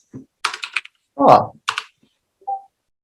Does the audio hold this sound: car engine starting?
no